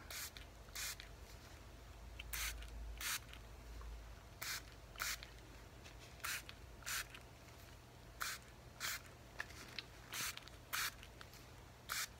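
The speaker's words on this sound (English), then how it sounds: "I'm gonna keep spraying you" A spray bottle fires a series of short, sharp hissing spritzes, sometimes single, sometimes in quick pairs, close and crisp over a low steady hum.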